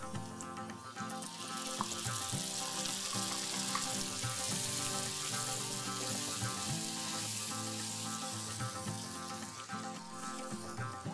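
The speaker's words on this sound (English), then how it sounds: "And now I'm going to add in my tomato puree." Tomato puree sizzles and fries steadily in a pan with browned, crispy onions, a continuous close hiss and crackle with no speech.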